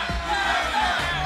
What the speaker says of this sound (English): Cloud9 chants are starting to overpower the disheartened TSM fans in the crowd.